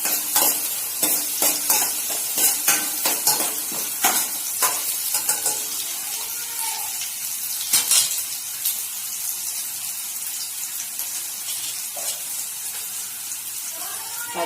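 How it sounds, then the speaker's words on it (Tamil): Chopped small shallot onions sautéing and being stirred in a pan for a Tamil kollu paruppu dish, a steady close sizzle with repeated scraping stir strokes throughout, no talk. "பொடியை நறுக்கி வதக்கிட்டுருக்கோம்."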